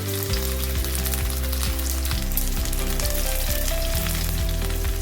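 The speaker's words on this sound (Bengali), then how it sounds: "শ্যালো ফ্রাই হবে। অলরেডি তেল দিয়ে দিয়েছি, আমি সয়াবিন তেলেই করছি।" Stuffed chillies filled with chicken and cheese shallow-frying in soybean oil, a loud, dense, continuous sizzle and crackle heard close up, with no talking.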